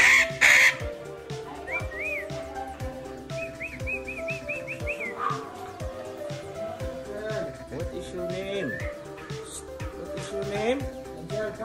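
A red parrot squawks and calls, harsh cries and whistled chirps mixed with nearby human speech throughout.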